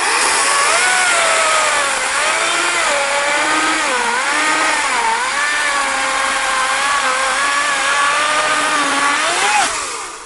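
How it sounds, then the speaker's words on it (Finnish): Chainsaw cutting wood in a loud, sustained run, its engine note wavering up and down as the chain bites, close and continuous for the whole stretch. "antaa sahan ja ketjun tehdä siinä työtä itse"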